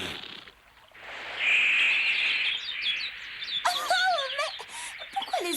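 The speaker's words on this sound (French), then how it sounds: "Pourquoi les oiseaux s'en vont?" Birds chirp and whistle in a forest with bright, warbling calls. A steady chirping hiss builds first, and then looping, wavering songs ring out close by, with no talk.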